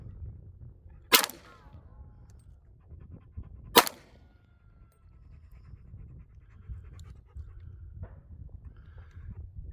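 Two sharp, loud Glock pistol shots fired at a target, spaced a few seconds apart, with faint handling noise and quiet background between them.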